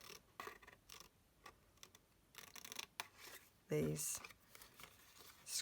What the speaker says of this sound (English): So you run your scissors up and you kind of hit that score line